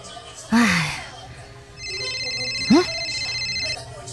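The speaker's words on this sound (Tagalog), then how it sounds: "Ay, telepono ko pala yun." A mobile phone rings in a home, its tone starting after a couple of seconds and repeating steadily until near the end, with short bursts of speech-like voice sounds before and during the ringing.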